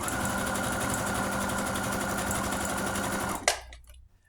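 Sewing machine stitching ribbon bullion fringe, a steady fast mechanical whir running close and continuous before stopping abruptly, followed by a short clack and fading hum.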